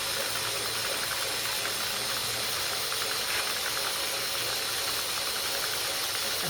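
Handle cranked on a sock knitting machine, a continuous fast mechanical ratcheting clatter with hiss, steady and loud throughout with no pauses.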